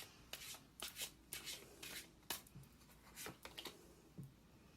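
Tarot cards being shuffled and drawn, a series of quick papery riffles and slides in irregular bursts, close and fairly quiet, with no talking.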